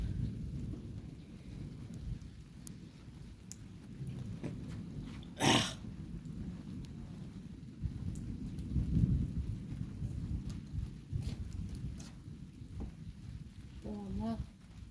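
Heavy summer thunderstorm at Montady in southern France: steady loud rain hissing on surfaces with deep rumbling thunder swelling throughout and a sharp crack midway; a voice is briefly heard near the end.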